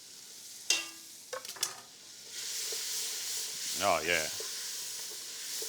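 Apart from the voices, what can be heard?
vegetables frying in a roux for gumbo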